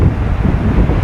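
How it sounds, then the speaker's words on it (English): Blizzard wind gusts in a heavy snowstorm buffet the microphone, a loud, steady low roar with rumbling swells filling the whole second, no voices. "it's the absolute worst snowstorm I've been in."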